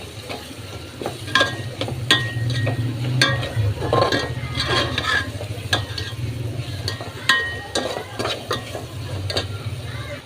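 Masala frying in oil in a pan, stirred steadily with a spoon, for a sundakkai (turkey berry) kuzhambu; constant close sizzle with repeated scraping and clinking strokes throughout, no voices.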